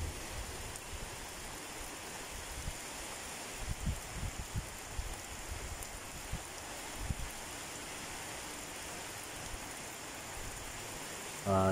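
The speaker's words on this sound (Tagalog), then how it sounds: "Inabot tayo ng ulan guys dito sa Casa Isabel" Steady rain falls at an apartment building in Sto. Tomas, Batangas, a constant soft hiss with occasional heavier drips and no voices.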